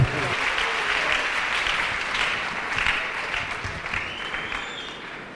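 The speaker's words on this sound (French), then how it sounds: "Acclamez la main à Jésus." A church congregation applauds for Jesus, a dense, continuous wash of clapping from many hands that holds steady for several seconds and eases slightly toward the end.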